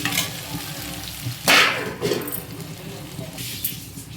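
Okra stir-fries in a pan with a steady close sizzle, a brief louder scrape-and-hiss burst as it is tossed, then settling back to even frying.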